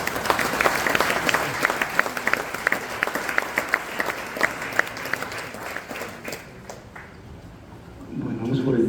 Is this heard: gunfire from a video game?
no